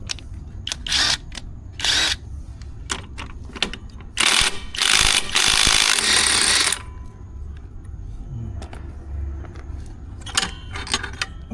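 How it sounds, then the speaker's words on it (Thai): Socket wrench with a size 22 socket ratcheting on a bolt of a Honda Click 150i automatic scooter, sharp clicking bursts in short runs with pauses between, close and loud, with no talk. "เราจะใช้บล็อกเบอร์ 22 ในการขันนะครับ"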